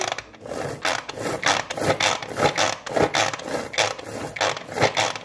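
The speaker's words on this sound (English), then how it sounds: "we stop here and we just process these really quick" A food processor chopping fresh tomato salsa ingredients in quick pulses, giving about a dozen rhythmic bursts of churning and rattling with short gaps between them.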